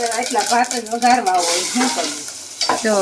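Rice being tempered and stirred in a hot pan, a steady sizzle with scraping stir strokes, while a voice talks over much of it.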